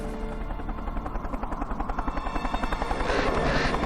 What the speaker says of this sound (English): That's a rescue helicopter.